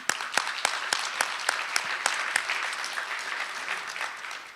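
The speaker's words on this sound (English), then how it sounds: "How about a round of applause for them?" An audience at a State of the County event applauds the sponsors, with a few sharp individual claps standing out over a moderate, even round of clapping that gradually thins.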